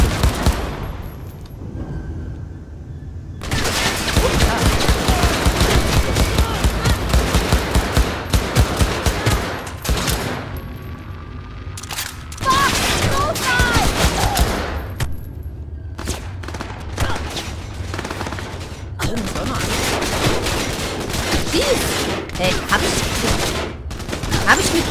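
Sustained automatic gunfire from a first-person firefight in Cyberpunk 2077, with dense rapid bursts, heavy booms and brief lulls running throughout, and a voice talking now and then over the shooting.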